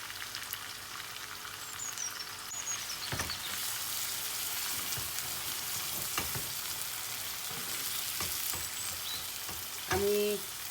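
Large onion and a spoon of turmeric frying in a pan for a spinach and prawn bhuna, a steady close sizzle with occasional stirring knocks and scrapes, a short voice briefly heard near the end.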